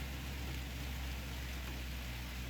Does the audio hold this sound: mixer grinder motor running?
no